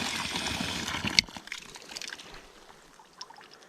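Water rushes and trickles out while a buried water line is flushed during tree planting with a Case TV450; a loud gush is followed by a quieter dribble and sporadic drips.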